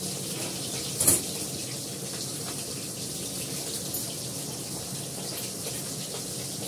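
Running tap water pours steadily as something is rinsed in a kitchen sink before cooking, a continuous close broadband gush with one brief clatter early on and no talking.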